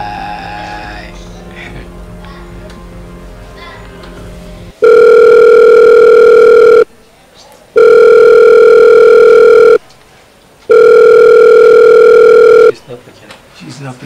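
A phone call's ringback tone heard through a handset, three long steady buzzing tones of about two seconds each separated by short silences, loud and close, preceded by a few seconds of muffled background noise.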